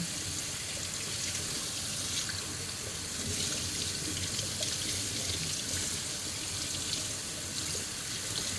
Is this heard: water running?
yes